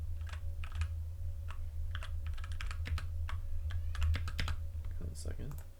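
Typing on a computer keyboard: bursts of quick, close key clicks in an irregular rhythm over a low steady hum, with a voice heard faintly in the room.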